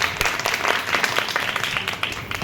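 Dense, steady applause from an audience at an Independence Day school event at a girls' college in Lucknow, many hands clapping together for a couple of seconds.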